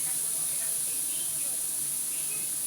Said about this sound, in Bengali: পটল আর কাঁকরোল ভাজাটাকে ভালোভাবে নাড়াচাড়া করে ভেজে নেব